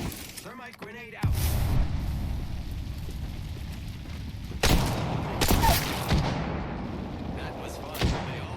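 In a shooter video game, a grenade detonates with a sharp boom after a brief voice, followed by rumbling debris and a second heavy blast a few seconds later.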